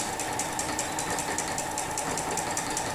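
A sewing machine runs continuously while free-motion quilting meander stitches across a quilt, a steady close mechanical whir with rapid fine needle ticking throughout, no voices.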